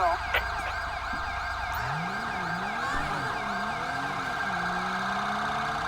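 An ambulance siren in the GTA 5 video game wails with rising and falling tones, close and steady, over a constant electronic hum, after a brief thump at the start.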